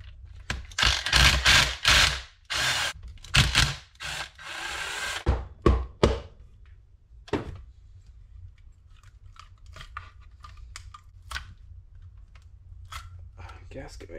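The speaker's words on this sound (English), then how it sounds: "We'll start off by taking off the head." Hand tools work on a Yamaha YFZ 450 engine as its cylinder head is taken off, a burst of scraping, clattering metal-on-metal knocks and rubbing up close, then sparse quieter clicks and taps, with talking at times.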